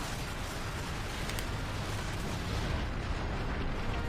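A rolling explosion in the Warhammer 40k Space Marine video game, a dense continuous roar and rumble with crackling bursts, loud and unbroken for several seconds.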